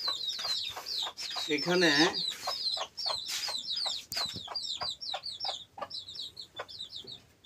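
Chickens clucking close by at a home where hens lay eggs, rapid repeated clucks and calls throughout, with a brief louder squawk early on and a person speaking a single word.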